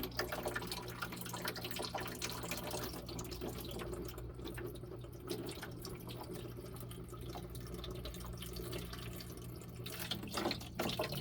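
Water runs steadily from a valve at a cabin and splashes into a bucket, a constant low rushing with faint drips, no talking.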